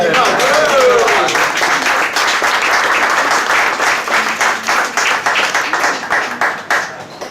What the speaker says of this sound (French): J'ai dit sous vos applaudissements, c'est timide.